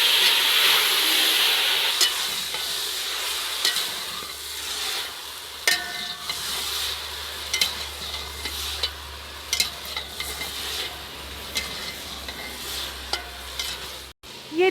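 Onions sizzle steadily in hot oil on a mud stove, with a loud, constant frying hiss and intermittent clinks and scrapes of stirring, close up with no talk.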